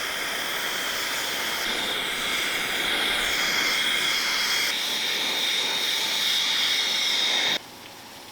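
A torch roars with a steady, close hiss as it heats the hinges of a WWII Panzer II MG34 tank mount, holding even for several seconds before cutting off abruptly near the end.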